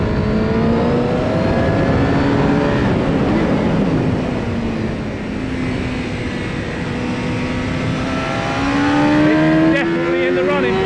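A 2002 Suzuki GSX-R 750 K2 motorcycle ridden hard on a race track, its loud, close engine droning steadily with rising and falling pitch through gear changes for about eleven seconds, with brief speech over it.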